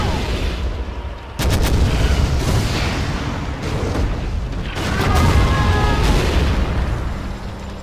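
Bullet barrage gunfire in C&C Generals Zero Hour: dense, rapid rattling bursts mixed with heavy booms, loud and sustained, with brief unit voice chatter.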